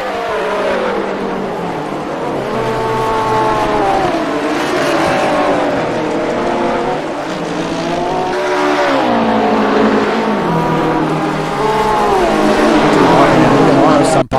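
GT race cars roar around Virginia International Raceway, engines wailing and shifting pitch through a turn as one car slides sideways, loud and continuous, with a commentator talking over the noise.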